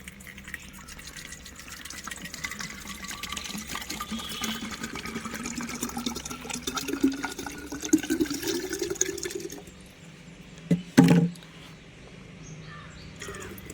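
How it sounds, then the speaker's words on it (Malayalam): One litre of water pours steadily with a rising gurgle as a container fills, then stops; a brief splash or clunk follows near the end. "1 ലിറ്റർ വെള്ളം ഒഴിക്കുക."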